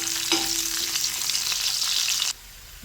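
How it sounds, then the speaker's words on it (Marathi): Grated coconut and onion browning in hot oil in a pan, a dense near sizzle with a brief tonal ping at the start, cutting off abruptly toward the end. "खोबरं पण मस्त ब्राऊन करून घेऊ"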